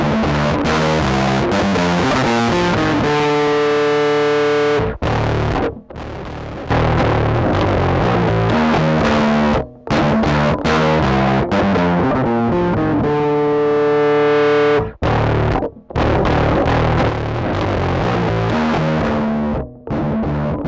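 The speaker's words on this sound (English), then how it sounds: "The DS-12 is a fairly good distortion" Heavily distorted bass guitar through a DS-12 distortion pedal plays chunky riffs and sustained notes, loud and gritty, with brief pauses between phrases.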